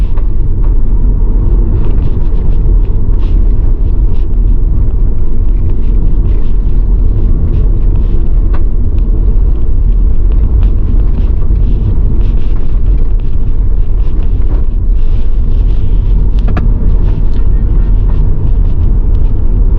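A car drives along the B5 road near Christiana in Manchester, Jamaica, with a steady, loud low rumble of engine and road noise and some wind buffeting throughout.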